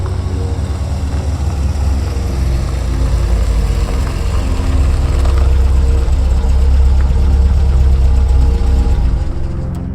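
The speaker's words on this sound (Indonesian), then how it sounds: "mendengar deru suara mesin mobil" A car engine rumbles steadily and loudly nearby, its low drone holding constant and growing slightly stronger partway through.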